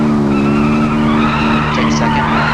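A Volkswagen in a video game skids with a loud, sustained tire squeal over a steady engine drone, the screech wavering and rising briefly near the end.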